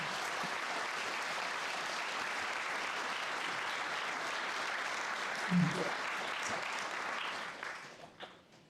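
An audience at a folk dance group's anniversary show applauds the local folk dancers, with sustained dense clapping that holds steady and then tapers off near the end, with a brief bump partway through.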